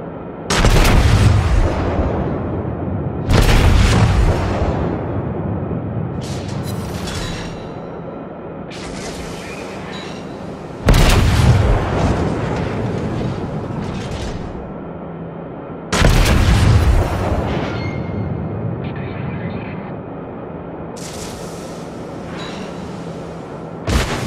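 The Japanese battleship Kongo firing its main guns in World of Warships, four heavy booming salvos spaced several seconds apart, each loud and close with a long rumbling tail and fainter distant shots between.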